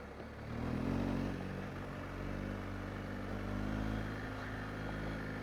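A BMW 1250 GSA motorcycle rides over gravel, its engine a steady close drone with a swell of pull early on, mixed with rolling crunch and wind rush throughout.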